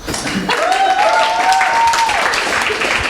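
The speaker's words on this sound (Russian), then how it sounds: "здесь погромче аплодисменты" Audience applause in a TV studio, loud steady clapping lasting about three seconds, with a brief tonal music sweep riding over it.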